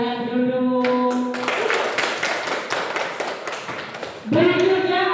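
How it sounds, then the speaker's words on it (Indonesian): A classroom claps for a student group, a dense burst of many hands that rises after a voice and lasts a few seconds before talking resumes over its end. "tepuk tangan untuk kelompok 2"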